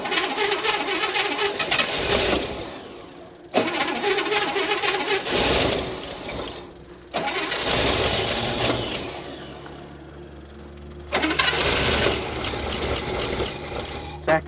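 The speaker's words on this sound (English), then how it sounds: "I'm gonna give her a crank, see what happens." An abandoned International pickup truck's engine cranks loudly in three long bursts separated by brief pauses, the starter churning steadily without a clean catch.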